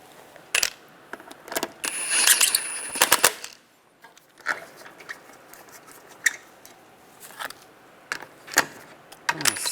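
Lug bolts go onto a 2006-2009 Volkswagen Rabbit wheel during a front brake job, heard as a series of close, sharp metallic clicks and clinks in irregular clusters, with quieter handling noise between them.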